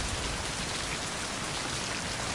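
Steady rain falls in the video game Mind: Path to Thalamus, a dense even hiss of drops pattering on surfaces, close and unbroken with no voices.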